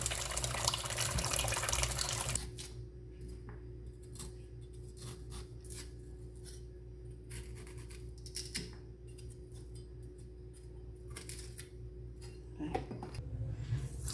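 Peeled chayote is rinsed under a running kitchen tap. A loud rush of water lasts about two seconds, then stops, followed by soft scattered knocks and handling noises.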